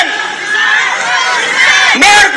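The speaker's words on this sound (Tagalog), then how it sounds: "ang isigaw natin ay Marcos resign! Sigaw natin lahat" A large protest crowd at a rally on EDSA shouts a loud, sustained political chant in unison, with a sharper burst of voices near the end.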